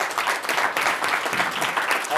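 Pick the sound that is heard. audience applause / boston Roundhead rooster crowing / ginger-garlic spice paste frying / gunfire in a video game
audience applause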